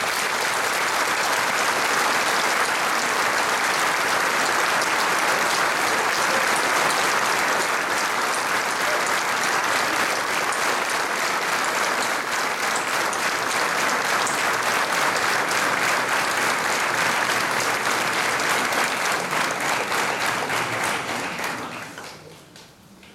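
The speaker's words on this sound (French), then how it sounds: "clôturons, si vous le voulez bien ensemble, cet hommage par une salle d'applaudissements" Packed hall at a 2015 New Year's greetings ceremony delivers long, dense, even applause honoring police and emergency services, holding steady for about twenty seconds before fading quickly at the close.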